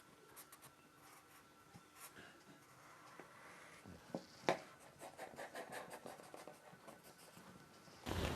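Pen or chalk scratches across blouse fabric while a pattern is marked out, with short scraping strokes at close range, quiet and irregular, and a sharper rub near the end.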